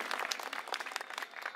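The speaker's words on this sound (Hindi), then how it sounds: "पहले जोरदार तालियां बजाइए" Crowd at a large outdoor political rally in Delhi's Adarsh Nagar breaking into loud, dense applause, many hands clapping together in a steady wash with no pauses.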